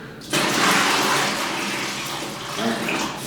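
Water poured from a bucket gushes steadily down a urinal drain, a loud close rushing splash that begins abruptly and holds for about three seconds.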